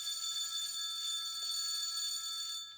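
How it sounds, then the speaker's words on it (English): A telephone rings in an Unreal Engine 5 horror game, a steady, bright electronic bell tone that sounds continuously and fairly loudly for the whole stretch. "Right, so the phone's ringing."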